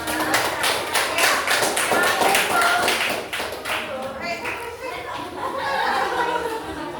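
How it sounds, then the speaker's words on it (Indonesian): Pupils in a grade 8 classroom clap for a presenting group, sharp, loud claps at first that thin into scattered taps, with chuckles and talking mixed in. "tepuk tangan untuk kelompok 5"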